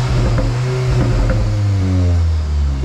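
Audi S3 8Y with a resonator delete and exhaust valves open, revving loud and close: a rising roar that peaks and then falls away as the revs drop.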